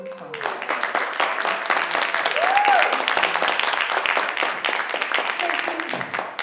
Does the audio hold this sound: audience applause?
yes